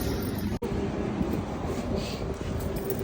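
A street cleaning vehicle passes outside on a cold, windy day in England, giving a steady, close broadband rumble with wind noise and no pause across the few seconds.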